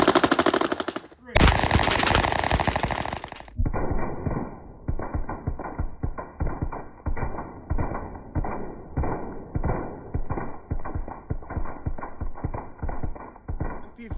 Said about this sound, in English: MP-5s versus 2 liters with tracers.